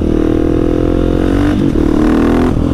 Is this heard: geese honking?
no